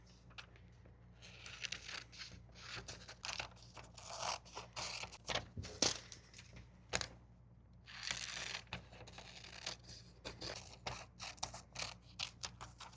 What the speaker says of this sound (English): This one I think I'm going to cut out, I think.